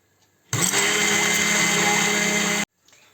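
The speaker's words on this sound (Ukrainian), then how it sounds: "просто нажимаємо на кнопочку на блендері і збиваємо" An immersion blender whips mayonnaise, whirring loudly for about two seconds, starting abruptly and cutting off, steady high-pitched motor hum up close.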